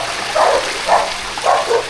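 Several short dog barks in a loose rhythm, fairly close, over steady background noise.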